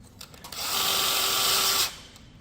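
A power drill runs for about a second as it drives a screw into the frame of a tunnelhouse, one steady close whirring burst that rises and cuts off, with faint handling knocks around it.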